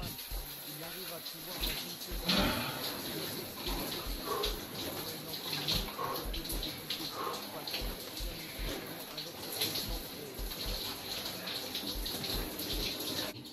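Shower water runs in a steady, broadband rush close by, continuous throughout with some shifting splashes, while a person talks over it.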